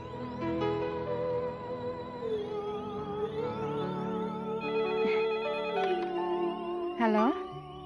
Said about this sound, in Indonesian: Neng, telepon itu pasti dari Den Teto.